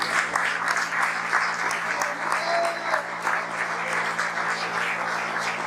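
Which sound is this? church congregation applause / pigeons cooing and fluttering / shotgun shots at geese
church congregation applause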